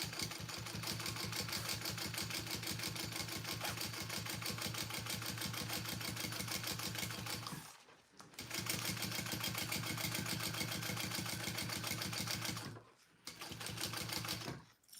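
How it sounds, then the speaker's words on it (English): A sewing machine top stitching a side seam on a Rick Rolltop Petite backpack runs steadily with a fast, even needle rhythm, pausing briefly twice before resuming, close and unaccompanied by talk. "I'm top stitching down that seam on the side where the extra material is"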